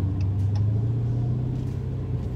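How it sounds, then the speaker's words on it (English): A Dodge Challenger Scat Pack Widebody's exhaust heard from inside while driving, a steady deep low rumble with a constant engine drone and no talking. "we're gonna open her up a little bit just to hear that exhaust"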